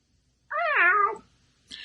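A single drawn-out domestic cat meow, loud and close, rising then falling over about three quarters of a second, followed by a brief faint second cry.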